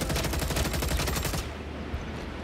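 Lumen gun in Star Citizen firing in full auto: a loud, rapid stream of closely spaced shots for about a second and a half, then cutting off into a fading echo and low rumble.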